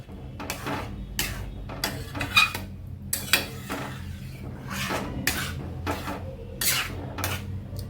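A spoon scrapes and clanks against a metal pot while palak paneer with salt and a little sugar is mixed, repeated sharp knocks and scrapes in an irregular rhythm, close and fairly quiet, no talking.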